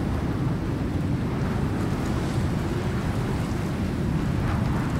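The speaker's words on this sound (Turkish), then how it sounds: "Bu taraftaki fırtınaya yakalandım şimdi de." Storm wind in the survival game Icarus, a loud, dense, continuous roaring rush like heavy gusts and surf that holds steady throughout with no voices.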